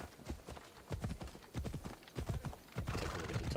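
A galloping horse in a video game: quick, steady clip-clop of hooves, fairly loud and close, with a short whinny-like edge and no talking.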